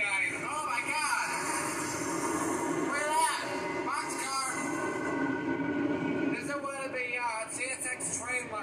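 Rumbling CSX manifest freight train passing in Deshler, Ohio, with clattering wagons and occasional metallic squeals, while people talk excitedly over it nearby.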